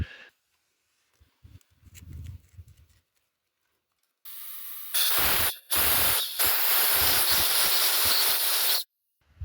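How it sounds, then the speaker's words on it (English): Compressed air blasts crud out of bolt holes in a bike engine, loud hissing bursts that start after a few quiet clicks, with one long blast broken by short pauses and then cut off abruptly. "dig that out and then blast it with the air"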